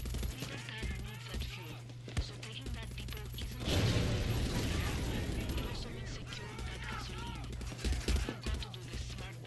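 Mounted gun in Far Cry 6 fires in dense bursts against a busy game soundscape, with a loud sustained stretch in the middle and speech over parts of the gunfire.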